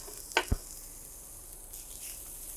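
Onion sizzles in a hot pan with a steady, faint hiss, marked by a couple of sharp clicks or taps near the start.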